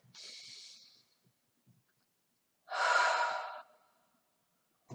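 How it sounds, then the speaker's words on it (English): Two breaths sound alone in near silence: a softer inhale first, then a fuller, louder breath a couple of seconds later, close and clear. "And take a breath."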